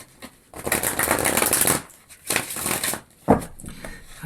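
Tarot cards shuffled by hand in three close, crisp riffling bursts separated by brief pauses, with no talking.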